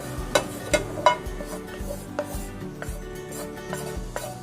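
Gram flour roasts in a pan for paneer masala while a spoon or spatula stirs it, giving a string of sharp scraping taps against the pan over a quiet, faint sizzle.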